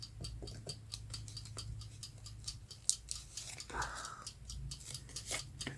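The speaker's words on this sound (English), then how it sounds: "let me cut that out first" Scissors snip through paper for a journal layout in a quick series of small, close, crisp clicks, with a soft rustle partway through and faint talk in the background.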